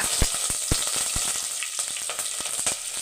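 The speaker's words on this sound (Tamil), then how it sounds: "எண்ணெய் காஞ்சிருச்சு வடகம் போட்டுக்கலாம்" Vadagam crackling in hot oil, a steady bright fizz with sharp pops scattered throughout, close and fairly loud with no talking.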